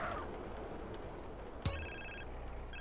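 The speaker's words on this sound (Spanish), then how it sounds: "me llaman justo al teléfono" A mobile phone in GTA San Andreas starts ringing with a sharp click followed by a quick, repeating electronic tone, moderately loud against a faint background hum.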